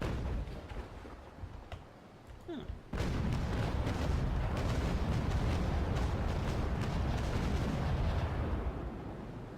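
Ship cannon fire in the naval sailing-combat game Naval Action: a dense, sustained rumbling barrage that begins abruptly after a quieter opening and keeps roaring loud and steady to the end, with no voices.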